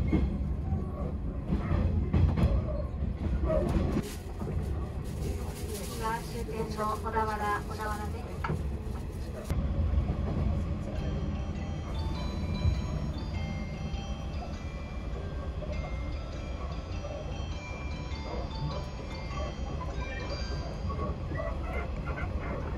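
A 185 series train rumbles and clatters along the rails, steady and close, heard from on board, with brief squeals and a dog barking faintly early on.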